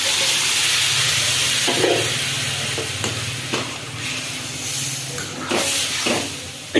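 Masala and potatoes hiss loudly in a hot pan as water hits them, a dense steady sizzle and steam rush with occasional stirring knocks, close and continuous.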